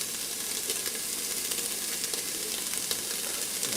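Baby carrots and tomato paste fry in a pressure cooker, giving a steady, close crackling sizzle with fine popping bursts and no voices.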